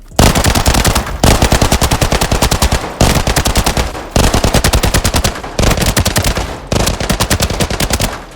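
Full-auto gunfire from a rifle in the shooter game Arena Breakout Infinite, loud and close in six rapid sustained bursts with short pauses between them and no talking.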